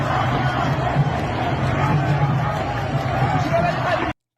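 A protesting crowd fills the streets of Najafabad, Iran with a steady, far-off murmur of massed voices that holds evenly, then cuts off abruptly just before the end.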